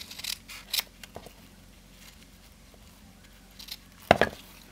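Scissors snip ribbon at an angle in a few short, sharp cuts spread across a quiet room, with the loudest snip near the end.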